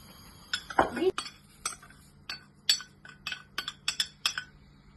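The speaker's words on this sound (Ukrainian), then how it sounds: "Беремо ложку і помішуємо потрошку" A metal spoon clinks and scrapes against a pot of oatmeal porridge in quick, irregular taps while stirring, close and fairly crisp.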